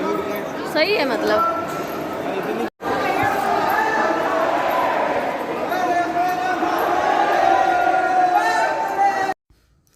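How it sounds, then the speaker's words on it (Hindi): A dense crowd chatters, a continuous wash of many voices close around, with a nearby speaker talking over it and a brief cut partway through. "बहुत भीड़ है"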